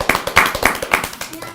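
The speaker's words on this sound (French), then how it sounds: "On l'applaudit." Audience clapping for a host introduced on a French children's science show, heard as a few distinct, fairly close rhythmic claps over about a second and a half, mixed with voices.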